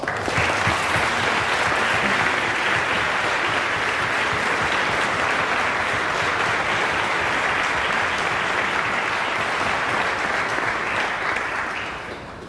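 A large audience at a Teacher of the Year awards ceremony applauds for teachers in dense, sustained clapping that holds strong for about twelve seconds before easing slightly at the end.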